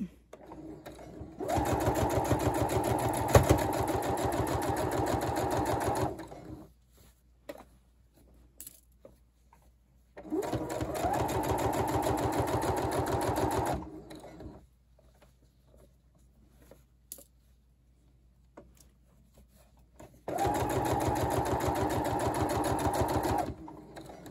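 A sewing machine stitches a seam in three steady buzzing bursts of several seconds each, separated by quiet pauses, close and fairly loud with no talk over it.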